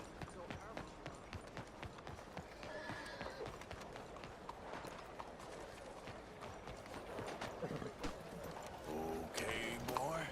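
Horse hooves clip-clopping in a quick, irregular rhythm, faint and somewhat distant, with a horse whinnying and people talking and calling out over it.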